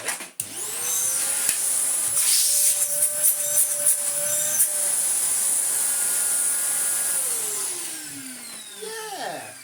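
A vacuum cleaner spins up and runs on carpet with a loud, steady whine, its pitch shifting slightly as it moves, then winds down near the end; a faint bit of talk sits beneath it.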